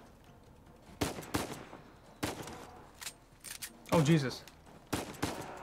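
Sniper rifle shots in the Uncharted 4 video game, several sharp separate cracks spaced apart, with gunfire and player voices mixed in between.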